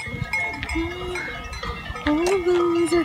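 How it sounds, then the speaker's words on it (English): Cowbells on grazing cows clank and jangle irregularly outdoors in the Swiss Alps, near and far, mixed with animal sounds and a bit of background murmur. "All of those are cowbells."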